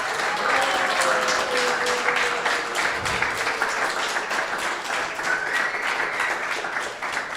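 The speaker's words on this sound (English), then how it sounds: "Please give a big round of applause." A lecture audience breaks into sustained applause, a dense wash of many hands clapping that stays steady and fairly loud throughout, with no voice standing out above it.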